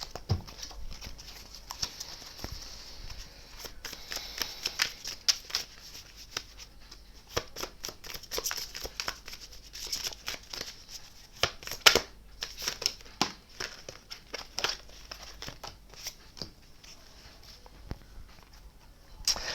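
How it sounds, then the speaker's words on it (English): Tarot cards are shuffled close by in repeated soft riffles and taps, a quiet irregular patter with no voices. "Let's give this a nice little shuffle."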